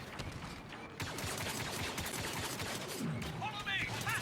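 Star Wars Battlefront 2 battle sounds: a dense, steady wash of gunfire and blasts from a firefight, continuous and loud throughout with scattered sharper bursts and a few whistling effects near the end.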